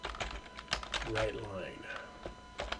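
Fingers tap on a computer keyboard while writing assembly code, producing quick, irregular clicks under a man's speech.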